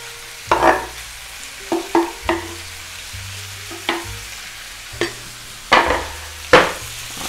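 Tongue and tripe are stir-fried in a pan with a faint steady sizzle underneath, broken by sharp scraping and clattering strokes of the spoon at uneven intervals, close up and without talking.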